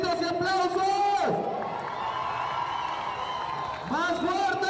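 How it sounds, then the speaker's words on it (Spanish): A studio crowd shouts and applauds, a dense, sustained wash of clapping and cheering between louder bursts of voices at the start and end. "¡Esos gritos y aplausos!"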